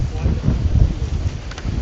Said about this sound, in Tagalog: di kami makapagpalipad ng drone dahil grabe yung hangin. Lakas ang hangin.